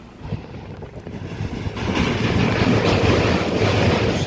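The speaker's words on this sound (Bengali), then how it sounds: "ট্রেনটা ছেড়ে দিল" A train pulls away from a station bound for Hasimara, a broad rumble and rushing noise that swells from quieter beginnings into a loud steady roar with wind buffeting.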